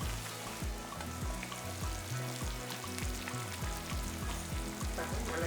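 Fish pieces gently stirred into a bubbling fish gravy, with a steady close simmering sizzle and a rhythmic series of low scraping strokes running throughout, no voices.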